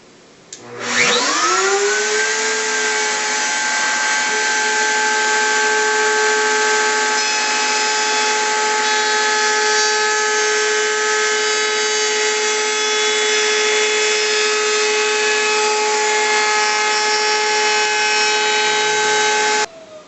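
A router with a bearing-guided bit cutting about 1/8 inch through two layers of a wooden box top, a loud steady high motor whine that spins up and holds for nearly twenty seconds, alone with no talk.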